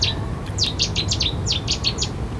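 A bird calls from green and brown reeds at London Wetland Centre, giving a quick series of about ten sharp, high chirps in bursts, clear and fairly close over a steady low background hum.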